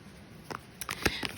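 Tarot cards shuffled by hand give a few quick, soft riffling bursts and papery flicks, close and fairly quiet, with no talk.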